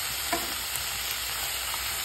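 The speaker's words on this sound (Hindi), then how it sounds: "ऑयल हो गया है गरम, पालक डाल देती हूँ" Spinach dropped into hot oil in a home kitchen for an aloo palak dish, giving a steady, even frying sizzle with a couple of faint clicks, no talking.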